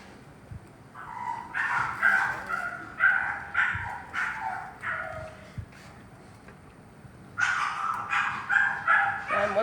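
Several pet dogs barking and yipping excitedly in a home kitchen, bursts of repeated barks in two clusters with short pauses between, fairly close and moderately loud.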